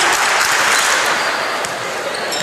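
Cheering section crowd at a high school basketball game between the Bradley Central Bears and Meigs County Tigers, a steady broadband roar of voices and clapping filling the gym, fairly loud and continuous throughout.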